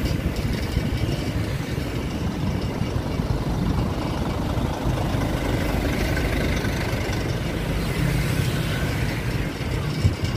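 A motorized rickshaw's engine idles on a city street, giving a continuous low rumbling drone at a steady level with no talking.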